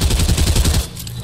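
Rapid burst of gunshots in a shooter game, about a dozen quick evenly spaced shots in a loud rattling string that stops abruptly, leaving a short tail.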